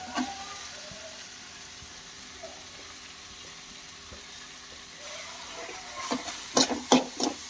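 Tomato and carrot fry in a pan while a bread toast recipe is being cooked: a soft, steady sizzle close by, then louder clattering knocks near the end as the vegetables are stirred.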